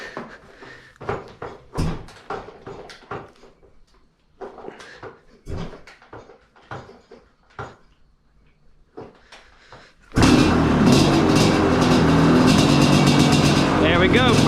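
A KTM 350 motorcycle with the choke pulled on a cold engine kicks over and fires, the engine bursting in loud and steady after a stretch of close-up talking and scuffing handling noises.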